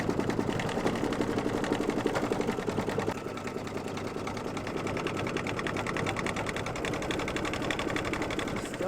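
A sewing machine stitches steadily across a quilt seam on a small mug rug, a fast, even mechanical whir and rattle at close range, with a slight dip in pace partway through.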